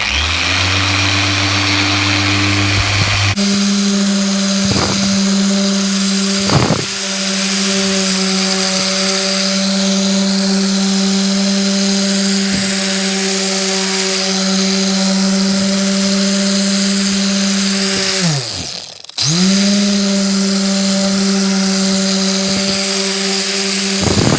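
Harbor Freight orbital polisher working on a car headlight during restoration, a loud, steady motor whine with a few brief dips in speed as the pad presses on the lens, close and continuous with no talking.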